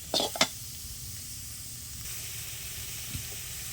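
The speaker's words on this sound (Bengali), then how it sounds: "ওর মধ্যে পেঁয়াজটা দিলাম কড়ার মধ্যে।" Onion drops into hot mustard oil in a kadai with a couple of sharp crackles, then settles into a steady, even sizzle heard up close with no talking.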